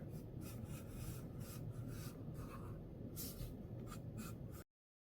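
A Faber-Castell Pitt 14B graphite pencil drawing a flower stem on paper, close, soft scratchy rubbing strokes in an uneven rhythm, no talk, ending abruptly.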